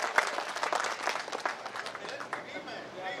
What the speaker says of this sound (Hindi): एक बार जोरदार तालियों से आप इसको निवेदित करें।